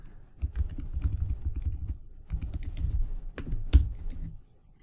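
Someone types code on a computer keyboard in two close bursts of quick, muffled key taps with a louder clack near the end, with no speech.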